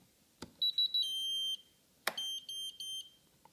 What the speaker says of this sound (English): And you heard 2 beeps, which indicates that the position was stored.